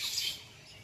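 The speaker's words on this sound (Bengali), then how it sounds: "এই গাছটাতেই পাখি ডাকছে" Birds call and squabble in a tree outdoors, a brief burst of bright, high chirps and squawks that fades quickly, fairly loud and close, with no talk.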